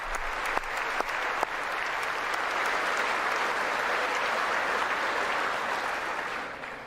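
A 2020 State of the Union audience breaks into applause. A few distinct claps open it, then a thick, even roar of clapping continues for several seconds and begins to thin toward the end.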